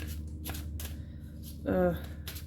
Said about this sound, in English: I was shuffling your cards